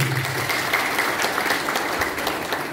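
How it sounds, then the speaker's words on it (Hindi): A rally crowd at a political event claps in a brief, steady burst of applause heard at moderate distance. "एक ताली लगा दो अपने।"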